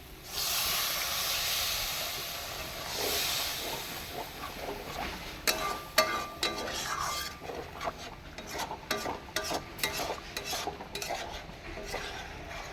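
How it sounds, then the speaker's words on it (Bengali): Water is poured into a hot fried spice mixture for bottle gourd dhoka curry, hissing loudly for several seconds. Then a spoon scrapes and clinks against the pan in quick, uneven strokes as it is stirred. "এবার আমি এর মধ্যে জল দিয়ে দিচ্ছি"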